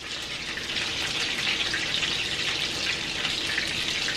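Turkey burgers sizzle steadily in a hot pan while being flipped with a wide spatula, giving a continuous bright frying hiss with no distinct clanks standing out.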